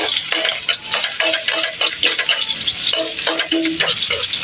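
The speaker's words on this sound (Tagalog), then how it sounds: "So ngayon, mainit na yung ating mantika. Ilagay natin itong bawang." Garlic frying in hot cooking oil, a loud continuous crackling sizzle with rapid spatter pops and some stirring and pan clatter throughout.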